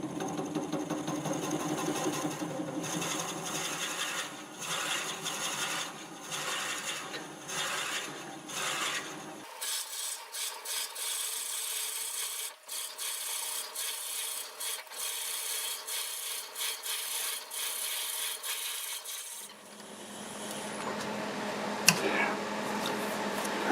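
Olive wood spinning on a wood lathe at about 350 RPM, with steady rubbing, whirring machine noise and tool scraping that shifts in tone midway, continuous and fairly close throughout.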